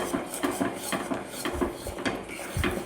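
A spoon scrapes and knocks rhythmically against a pan while mango pickle is stirred with spices, a series of quick, close clinks and scrapes at a steady pace, with no talking.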